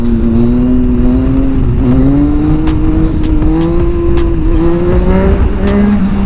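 A Yamaha MT-09 motorcycle pulls hard with a loud, steady engine whine, its pitch climbing and dipping slightly across several quickshifter gear changes, close and continuous with wind noise throughout.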